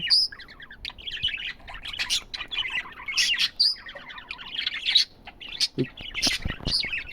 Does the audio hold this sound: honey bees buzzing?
no